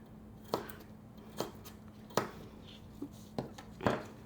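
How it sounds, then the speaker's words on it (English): A knife chopping a red onion on a cutting board in a home kitchen, six sharp, spaced cuts, fairly quiet over a low steady hum. "Now I'm going to cut up some red onion."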